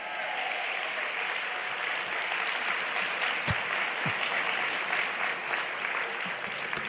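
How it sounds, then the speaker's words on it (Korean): A church congregation breaks into sustained applause during a Friday sermon, a dense, even wash of clapping from a large crowd that fills the room and holds steady throughout. "설교하다가 박수 받긴 처음인 것 같아요."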